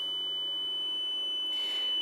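Steady electronic tone from a wireless flood alarm buzzer, a thin continuous whine holding level throughout, with a brighter burst of noise near the end; no voices.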